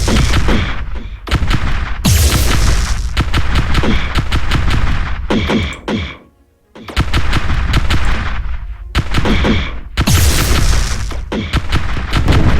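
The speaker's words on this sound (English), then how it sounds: "Shields all around. Our ship's taking quite the pounding." Spaceship weapon fire in the space strategy game Star Drive 2, a dense barrage of loud gunfire-like bursts and booms hammering the ship's shields, nearly continuous with one brief lull midway.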